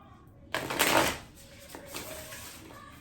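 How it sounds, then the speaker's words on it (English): A deck of oracle cards is riffled in one quick burst of crisp rapid flutters, close and fairly loud, followed by a few softer card taps and slides in a quiet room. "One more shuffle."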